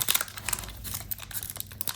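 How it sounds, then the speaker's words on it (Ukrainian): A Pokémon booster pack wrapper from a Surging Sparks Elite Trainer Box being torn open, with close, steady crinkling and crackling foil through the whole two seconds and sharper tearing bursts, no talking. "О, пакетик вже якийсь якось погано відкривається."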